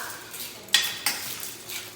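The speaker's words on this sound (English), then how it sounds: "And then we're gonna go ahead and stir this up." A spoon stirring vodka sauce in a pan: soft scraping with two sharp metallic clinks, quiet and close, under a low background hiss.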